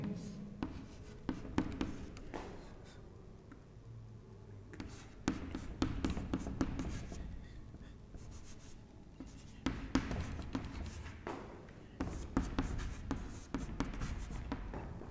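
Chalk or marker scratches and taps across a board during a classroom lecture, in bursts of writing separated by short pauses, close and moderately loud.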